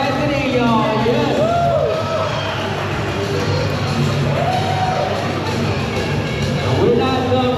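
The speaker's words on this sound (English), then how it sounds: "A round of applause for Cassidy, y'all." A crowd at a Harley-Davidson bikini contest in Palm Beach roars for a contestant with loud whoops, yells and cheers that rise and fall over several seconds, with voices shouting throughout.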